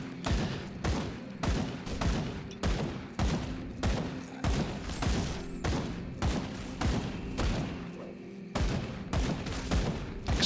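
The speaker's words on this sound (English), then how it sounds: "Exploding shells are doing that work that they need to." Dual pistols firing exploding shells in Grim Dawn, a rapid, relentless barrage of loud booming blasts in steady rhythm, close and continuous with brief gaps.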